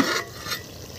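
Deshi village chicken being stir-fried in a pot for a handi curry, a short burst of stirring scrapes over steady sizzling frying, close and fairly loud, with no voices.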